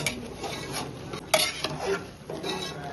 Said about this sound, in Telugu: టేస్ట్ సరిపోయేంత ఉప్పు వేసుకుంటున్నాను. కలుపుతున్నాను.